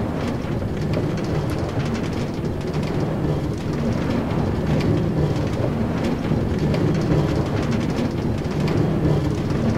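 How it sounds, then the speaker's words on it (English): A Minecraft minecart rolls along rails with a continuous low rumbling clatter that stays steady and loud for several seconds, without talking. "Hope I don't have to pay for this train trip."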